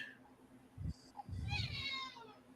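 A cat meows for attention indoors, two or three insistent close meows in quick succession, fairly quiet in a calm room.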